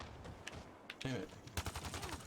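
Gunfire in Mass Effect Andromeda, played on Xbox Series X: a quick burst of shots followed by a rapid run of rattling fire, faint and mixed with a voice.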